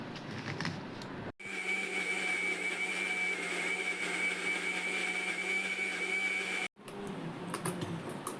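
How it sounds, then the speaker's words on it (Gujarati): An electric mixer grinder grinds red chillies for a chutney: a steady loud whirring whine runs for about five seconds and then stops abruptly, with quieter kitchen sounds on either side. "મરચાં નાખી દીધા છે તો દળી નાખીએ"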